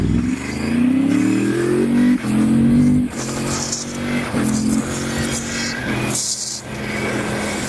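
A Yamaha R3 motorcycle ridden around a neighborhood, engine loud and close, revving up through the gears with rising pitch and brief dips at each shift.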